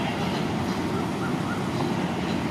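A Kiha 183 diesel train pulls in at Bang Sue station in Bangkok, giving a steady, loud rumble of rolling wheels and engine that holds without a break.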